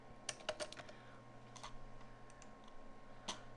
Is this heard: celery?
no